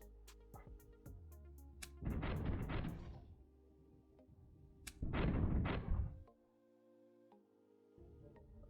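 Two heavy booming ship cannon blasts in the pirate video game Tortuga, each a burst of rapid rumbling shots lasting about a second, separated by quieter mechanical hum and faint clicks.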